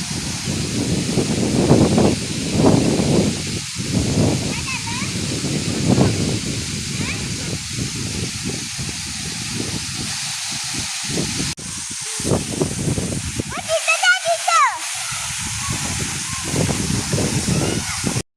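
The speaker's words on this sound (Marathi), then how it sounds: "धबधब्याचं स्पीड कसं मध्येच अचानक वाढतंय, कारण वारा जेव्हा येतोय ना, त्यामुळे वाऱ्यामुळे त्याचं स्पीड असं खूप वाढल्यासारखं वाटतंय." Morzot waterfall near Poladpur roars in a continuous broadband rush that surges and swells with gusts of wind, loud and close, with faint voices briefly audible toward the end.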